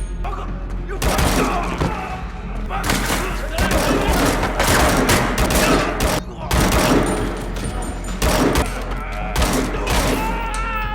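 Rapid gunfire bursts and heavy booms from a film fight scene with shotgun and sidearm, loud and nearly continuous, with thuds and grunts mixed in throughout.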